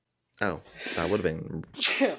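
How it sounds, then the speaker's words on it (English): A single person's sneeze, sudden and close, following a brief stretch of speech in a casual conversation. "Never mind. I had a sneeze."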